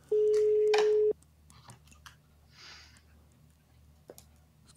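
Telephone call being placed: a steady dial tone for about a second, then faint clicks and quiet background noise with no talk.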